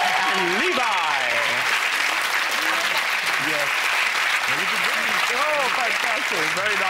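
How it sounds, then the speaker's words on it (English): Studio audience applause on a televised cooking show for two celebrity chefs, loud continuous clapping with people talking and cheering prominently over it throughout. "ladies and gentlemen, go on, give them a bit of an inspirational round of applause for Rakie and Levi"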